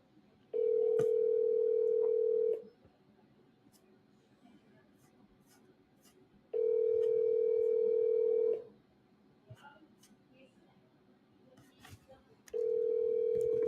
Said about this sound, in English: Okay, let's make a phone call.